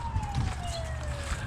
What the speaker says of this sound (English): Sounds like an ambulance to me